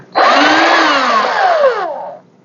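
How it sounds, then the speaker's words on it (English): A power drill bores a hole in a tube, whining loudly for about two seconds with its pitch sliding down as it bites in, then cutting off sharply. "I'm gonna drill a hole at the bottom."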